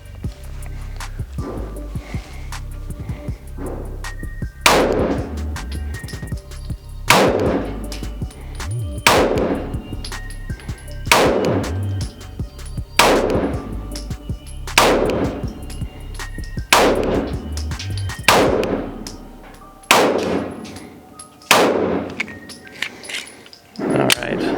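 A Glock 19 Gen 5 pistol fires at a B8 target on a range, about a dozen sharp, loud reports spaced roughly two seconds apart in a slow, deliberate rhythm.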